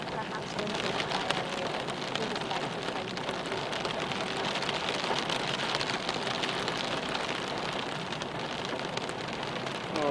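Heavy winter rain pours steadily outside a cave camp during a thunderstorm, a dense, continuous hiss with no pauses, close and loud throughout.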